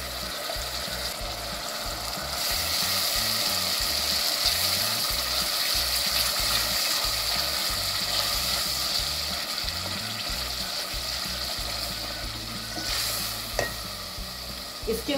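Golden onions sizzle steadily in a pan while a spoon stirs and scrapes in a rhythmic, rattling pattern, loud and close throughout, with no talking.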